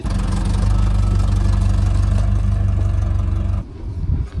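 Car fitted with European snow chains driving, a steady loud low engine hum with a faint rhythmic chain clatter, then dropping off as the car slows near the end.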